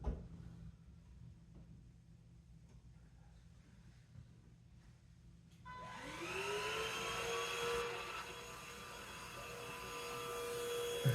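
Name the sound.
vacuum cleaner running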